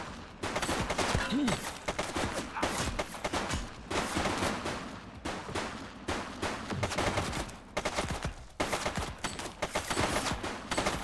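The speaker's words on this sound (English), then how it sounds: "He's shooting." A suspect fires continuously in The Precinct, a police video game, with loud, rapid, closely spaced shots and bursts that pause briefly and resume throughout.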